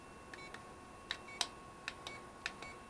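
A CG022 drone remote controller beeping as its sticks and trims are pressed, a series of short, quiet electronic beeps at irregular intervals over faint room hiss.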